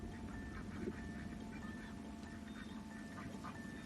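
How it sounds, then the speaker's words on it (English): Ducks quack in short, scattered calls over a steady background hum, faint and somewhat distant, with no clear talking. "These duck noises?"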